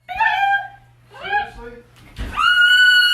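Pet parrot screaming in loud, harsh calls: a long squawk, a shorter burst, then a sustained shrill scream, up close with a steady hum underneath.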